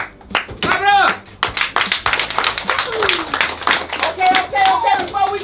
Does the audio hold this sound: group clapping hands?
yes